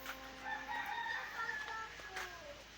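A rooster crows nearby in a small backyard vegetable garden, one long, loud, wavering call that fills most of the moment over faint background noise.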